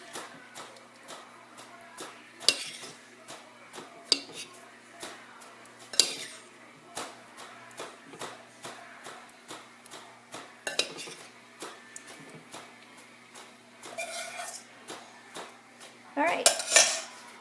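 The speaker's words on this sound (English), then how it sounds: "I'm going to just spoon it back on top" A spoon scrapes and clinks against the ceramic pot of a slow cooker while moving cinnamon back onto pork, giving irregular close metallic knocks and scrapes with quiet gaps between them.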